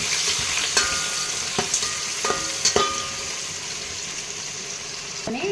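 Onions sauté in a pan with a continuous close sizzle, punctuated by several scraping taps of a spoon stirring them, with no talking.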